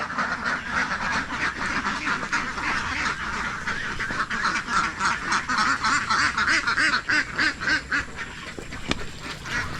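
A flock of domestic ducks quacks continuously while being herded outdoors, a dense, overlapping chorus of nasal calls close by with steady movement and no talking.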